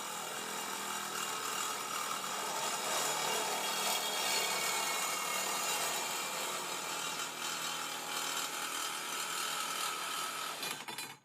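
A saw cuts steadily through wooden posts for a geodesic dome frame, one continuous rasping stroke sequence lasting several seconds at close range with no talking, ending abruptly.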